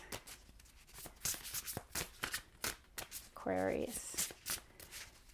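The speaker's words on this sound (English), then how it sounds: "One more shuffle." A deck of cards is shuffled by hand in several quick riffling bursts, crisp and close, between bits of a person speaking.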